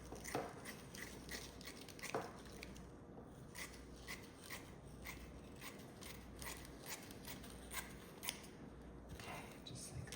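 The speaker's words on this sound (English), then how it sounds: "you will just cut it with your scissors here" Scissors cut through Halloween decoration material for an outdoor entryway, a series of crisp, quiet snips repeating at an uneven pace over low background hum.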